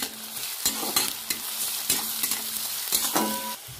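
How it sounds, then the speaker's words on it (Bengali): Sliced onion fries in oil with black cumin seeds, green chili and salt, a close steady sizzle broken by rhythmic spatula scrapes and knocks roughly once a second. "কালো জিরেটা এবার কাঁচা লঙ্কাটা দিয়ে দেবো পেঁয়াজটা দিয়ে দেবো ফের পরিমাণ মতো নুন দিয়ে দেবো এবার ভেজে নেবো"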